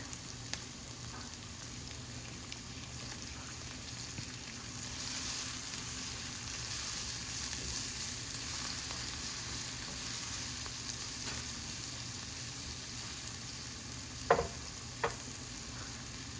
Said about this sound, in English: Now I'm going to add the tomato.